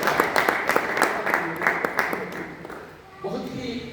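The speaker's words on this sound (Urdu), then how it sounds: "تالیاں" A church congregation at a Sunday service in Johannesburg breaks into dense applause that fades after about three seconds, with voices talking over and after it.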